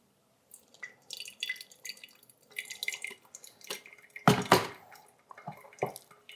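Water poured over a paper coffee filter to rinse it before home brewing, a soft irregular trickle and splashing with a brief louder gush near the end, close by and with no talking.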